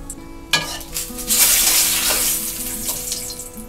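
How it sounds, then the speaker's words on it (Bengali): Dried red chillies and a bay leaf hit hot oil left from frying rui fish, bursting into a loud sputtering sizzle that swells and then settles into steady frying with faint stirring scrapes. "এই যে আমার মাছ ভেজে রাখা তেল, এই তেলটা দিয়ে আমি ফোড়ন দিয়ে নেব।"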